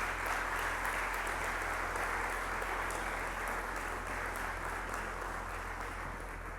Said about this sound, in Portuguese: quero pedir aqui mais uma vez uma grande salva de palmas para estes jovens investigadores da CPLP